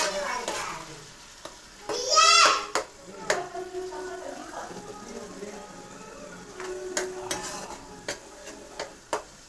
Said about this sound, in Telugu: ఆనియన్ పేస్ట్ పచ్చివాసన పోయేంత వరకు మగ్గనియ్యాలి.